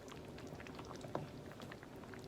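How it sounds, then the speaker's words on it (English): Chicken noodle soup with vegetables and noodles simmering in a pot on a turned-down burner, a faint, steady bubbling patter under soft room noise. "Now I'm just going to turn it down and let it simmer."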